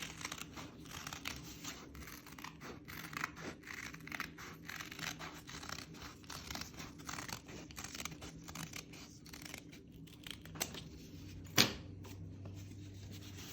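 Scissors snip through paper in a quick, steady series of crisp cuts with faint crinkling, close up and quiet, ending in one sharper snap.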